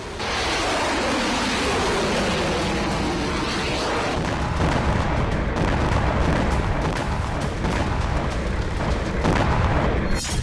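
Explosions from a Ukrainian strike on Crimea, a continuous loud roar of blasts and rumbling with sharp cracking impacts layered through it, sustained for about ten seconds without speech.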